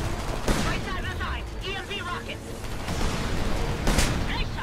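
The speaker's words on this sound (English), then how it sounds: "Dude, they fucking shoot so fast." Rapid, dense gunfire from enemies in the shooter Homefront, a sustained fusillade with sharp bursts and distant booms, while a player talks over it.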